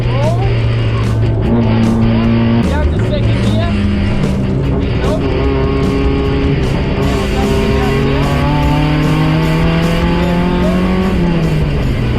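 A race car on track during a first trackday spins out, its engine loud and close, revving and dropping in pitch with rough bursts as the car loses grip; the roar fills the whole stretch.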